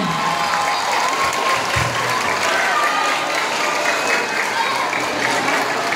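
Pageant audience claps and cheers in a continuous, dense wash of crowd noise during a national costume segment, loud and unbroken, with voices mixed into the din.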